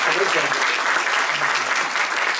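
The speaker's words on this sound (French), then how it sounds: "Est-ce que ce projet vous plaît? Applaudissez." Sustained applause from an audience at an evening campaign event in Biarritz's Colisée, dense and steady throughout, with faint voices mixed into the clapping.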